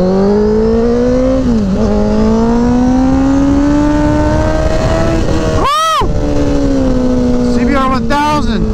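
A Honda CBR 1000 sport motorcycle on an E85 tune drones loudly and close, its engine pitch climbing steadily as it revs. Another vehicle whooshes past briefly, and some talk can be heard.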